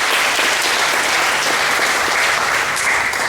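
Steady, dense audience applause at a school moving-up ceremony, many hands clapping continuously at even loudness for several seconds with no voices on top.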